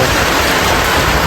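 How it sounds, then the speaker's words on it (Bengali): Rain falling hard during a storm, a loud, dense, continuous hiss of drops close by, with no other sounds and no talking. "বৃষ্টির আওয়াজ দেখো"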